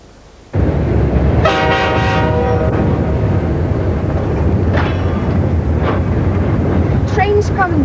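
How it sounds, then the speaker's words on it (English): A train approaches along the track in a film scene, a loud steady rumble starting abruptly and holding throughout, with tonal horn-like blasts near the start and later, and brief voices over it. "Train's coming. Get off the track, Jeff."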